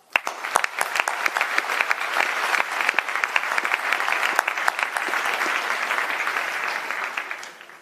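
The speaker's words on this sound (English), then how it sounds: "So you and your loved ones deserve a round of applause." Graduates and their families applaud at a university graduation ceremony, starting with a few sharp claps that swell into sustained, moderately distant clapping from a large hall, then taper off.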